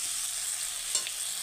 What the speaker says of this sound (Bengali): ভালোভাবে মিশিয়ে আর অল্প কষিয়ে নেব